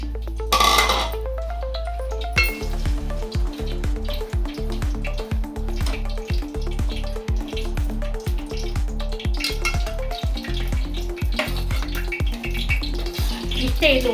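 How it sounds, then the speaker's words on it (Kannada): Grated coconut stirred into a sticky date filling in a pan for dates karjikai: steady, regular scraping strokes of a spoon against the pan, close and fairly loud, repeating throughout. "ಇವಾಗ ಇದಕ್ಕೆ ಕೊಬ್ಬರಿ ಹಾಕಿ ಮಿಕ್ಸ್ ಮಾಡೋಣ."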